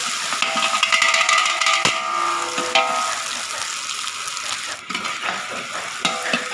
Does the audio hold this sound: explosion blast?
no